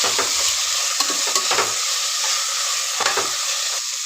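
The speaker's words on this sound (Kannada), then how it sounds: "ಈ ಎಲ್ಲ ತರಕಾರಿನ ಚೆನ್ನಾಗಿ ಎಣ್ಣೆಯಲ್ಲಿ ಫ್ರೈ ಆಗಬೇಕು" Mixed vegetables and peas frying in hot oil for pulao, a steady close sizzle broken by repeated scrapes and clacks of a spoon stirring the pan, with no talking.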